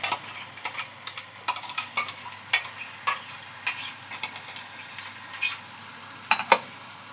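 Ground spice paste frying with softened onions in a pan, a steady close sizzle broken by repeated scraping and clinking stirs at an irregular rhythm, with no talk.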